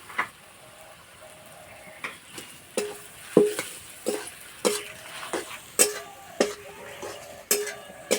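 Potatoes being stirred in a pan with salt, a steady rhythm of spoon scrapes and clacks against the metal over a low sizzle, about one stroke every half second, no talking.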